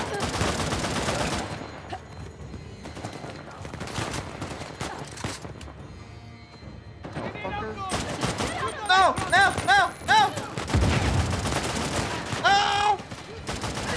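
Bursts of gunfire and blasts in the video game Uncharted, with a grenade explosion among them, dense and loud throughout; harmonic voices and game sounds overlap in the later part.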